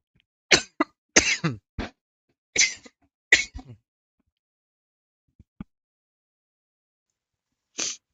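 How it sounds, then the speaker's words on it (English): Several sharp coughs in quick bursts near the microphone, followed by a pause, a couple of faint clicks, and one last cough at the end; no speech. "Sorry, I had a cough."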